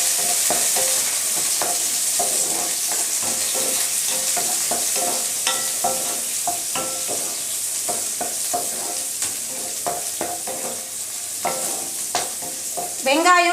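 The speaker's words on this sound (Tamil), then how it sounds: "கொஞ்சமாக கருவேப்பிலை எல்லாத்தையும் சேர்த்துட்டு நல்லா வதக்கிடலாம்." Onions, dried red chillies and curry leaves sauté in hot oil in a pan, a steady close sizzle with frequent stirring scrapes and clinks throughout, no talking.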